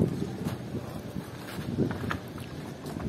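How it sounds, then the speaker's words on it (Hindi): Wind blows across a rooftop in a continuous low buffeting rush, with gusts that swell and fade and rough rumble against the microphone, no talk over it. "हमने कहा थोड़ी सी हवा खाने आ जाए, बहुत प्यारी हवा चल रही है इधर।"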